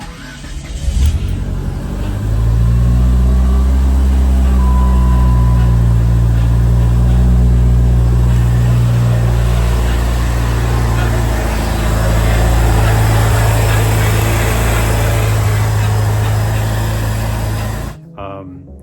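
A turbocharged Chrysler PT Cruiser engine, freshly swapped in, runs with a loud, steady mid-pitched drone for about seventeen seconds before it cuts off abruptly.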